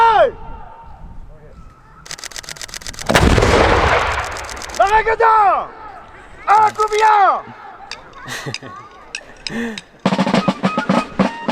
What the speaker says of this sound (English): So I get to do the march, go up, and fire a cannon.